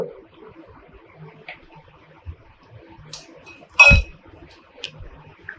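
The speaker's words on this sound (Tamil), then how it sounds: "கொஞ்சமாக பட்டர் போட்டுட்டு நல்லா அப்படி கலந்து விட்டுருவோம்" A spoon clinks sparsely against a bowl while sweet corn is tossed with butter and chaat masala. A few light taps build to one louder, sharper clatter near the end, with quiet gaps between.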